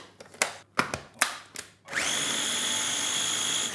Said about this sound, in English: This much of ginger. Into our trusty little mixing gadget.